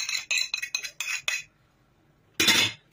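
A metal spoon clinks sharply against a bowl while starch is added for a homemade face mask, with a rapid run of bright clinks, a pause, then one louder ringing clink.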